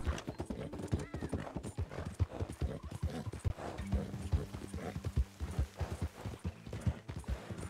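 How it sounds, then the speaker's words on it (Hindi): A horse gallops in the video game Red Dead Redemption 2, with steady rapid clip-clop hoofbeats throughout, a brief whinny mixed in, and faint talking underneath. "घोड़े से जाने में थोड़ा टाइम लगता है यार"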